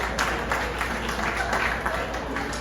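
Comedy club audience at a stand-up show applauding, a steady wash of clapping with some crowd noise running throughout at moderate level.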